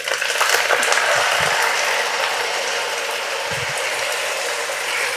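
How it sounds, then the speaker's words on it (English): Marinated chicken sizzles in a very hot wok during a stir fry, giving a steady, bright hiss close by. Two soft low thumps sound under the sizzle, with no talking. "You hear that sizzle?"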